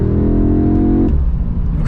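2021 Audi S3 five-cylinder engine accelerating from inside the cabin, a rising buzzy engine note climbing for about a second before dropping off into lower rumble.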